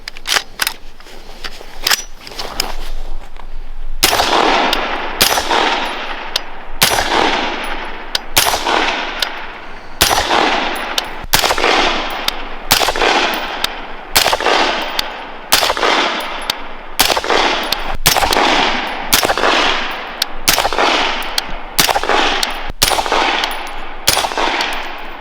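A suppressed Rugged Razor 5.56 on a BCM 14.5 rifle fires Winchester XM193 rounds, sharp loud cracks repeating at roughly one-second intervals, each with a short decaying tail, across a long string of shots.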